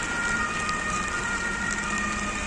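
Heavy rain falls in Rome as a steady, dense hiss that does not let up, with faint sustained tonal sounds in the background and no talking.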